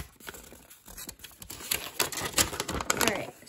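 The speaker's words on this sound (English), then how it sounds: "Sorry for all the crinkling if you don't like crinkling." Plastic packaging of a crochet hook set is crinkled and torn open up close, a dense run of crackling and rustling that grows louder and busier toward the end.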